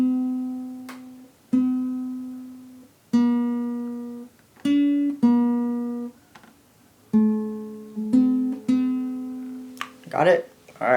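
Acoustic guitar picks a melody slowly, single plucked notes ringing out one at a time with pauses between, close and clean, a few quick scratchy strums at the end.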